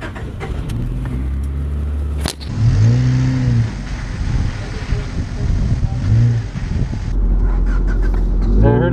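An enduro race car's engine cranks over and then runs loudly at a night demolition event, with steady rumbling and revving throughout, while people talk nearby.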